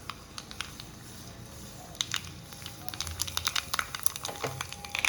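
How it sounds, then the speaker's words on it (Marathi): Mustard seeds crackling in hot ghee with two dried red chillies, a soft continuous sizzle dotted with quick pops and crackles that grow busier toward the end, close and fairly quiet. "मोहरी तडतडली"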